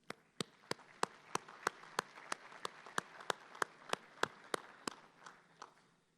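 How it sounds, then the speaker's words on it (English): At a Chamber of Commerce monthly luncheon, a round of applause for the chamber ambassadors comes through as faint, evenly spaced sharp claps, about eighteen in a steady rhythm that thins out toward the end. "I want to give a big round of applause to our chamber ambassadors at this time"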